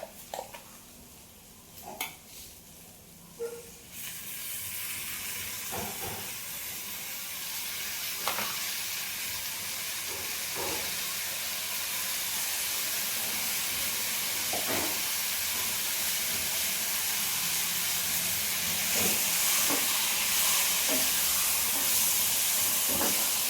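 Spice paste for snakehead murrel fish frying in a pan, a steady close hiss and sizzle that grows louder and denser after a few quiet seconds, with occasional sharp clicks of stirring.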